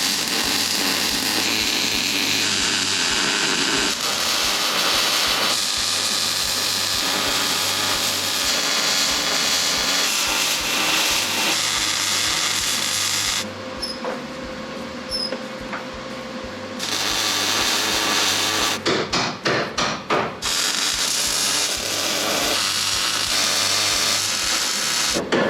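Tack welding steel frame stiffeners onto the underside of a Ford Aerostar's front end, working upside down: a continuous close crackling buzz with a steady hum, broken by a few short pauses and abrupt stops and restarts.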